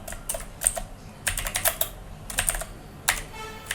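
Typing on a computer keyboard during Bengali thumbnail design work, with several bursts of rapid, close keystrokes separated by short pauses.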